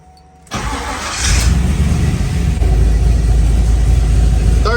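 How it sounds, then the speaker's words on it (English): A car with an LS swap engine cranks and catches, then settles into a loud, steady idle close by. "Let me crank the car up real quick."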